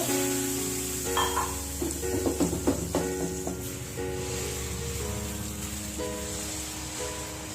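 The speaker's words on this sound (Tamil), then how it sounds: "வெங்காயம் நல்லா ரோஸ்ட் ஆகட்டும்." Onions sauté in a pan for dosa filling, a steady sizzling hiss with short bursts of stirring and scraping near the start, moderately quiet, with faint background tones.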